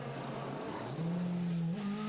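DTM touring race car on track at Spielberg, its engine droning steadily then rising in pitch as it accelerates, heard loud and close throughout with no talking.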